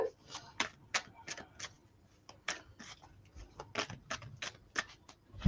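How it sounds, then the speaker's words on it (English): Tarot cards being shuffled by hand during an astrology reading, a quick run of sharp papery flicks and taps in an irregular rhythm, close and fairly quiet, with no talk over it. "I've just shuffled"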